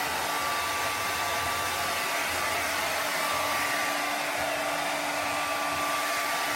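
A hair dryer blows steadily on a painting in an art studio, a continuous close whooshing whir with a faint tonal hum holding at even loudness throughout, with no voices.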